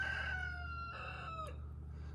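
A rooster crows once nearby, a long drawn-out call that rises and trails off, over a low steady background hum.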